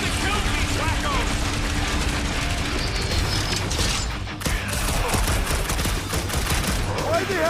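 Loud, dense gunfire rattles in Marvel's Guardians of the Galaxy, a continuous fusillade of rapid shots and mechanical clatter during combat, briefly dipping mid-clip before resuming, with voices shouting over the battle.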